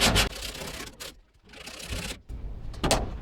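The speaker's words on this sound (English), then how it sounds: "let's clean it up with our sanding block, aka paint stick," Rough, scratchy rubbing strokes of sandpaper wrapped around a paint stick, several back-and-forth passes up close with short pauses between them, on a 1950 Dodge Cabriolet body.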